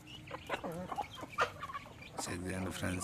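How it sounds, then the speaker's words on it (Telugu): Hens and roosters cluck steadily while pecking at feed, close and lively, with a voice briefly speaking over the birds. "మన పెట్టెలు పుంజులు అన్నీ దానా తింటున్నాయి"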